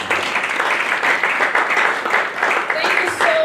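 Dense, sustained applause from an audience after an alumni talk, a steady wash of many hands clapping at close range with no gaps.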